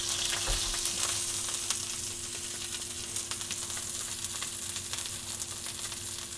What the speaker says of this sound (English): So you really do have to sear it on 3 sides with the tri-tip.